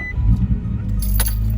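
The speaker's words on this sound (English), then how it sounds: "to turn on the car, you clutch in" A key turns in the ignition of a manual-transmission car with the clutch pressed in, keys jingling over a low rumble until the engine catches and settles into a steady idle near the end.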